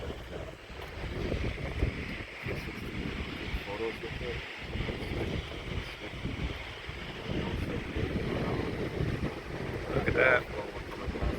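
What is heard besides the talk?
wind blowing against the microphone at Shoshone Falls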